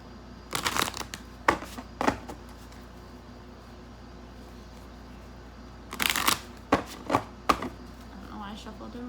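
A deck of tarot cards is shuffled close by in two short bursts of sharp riffling flutters, with a quiet pause between them.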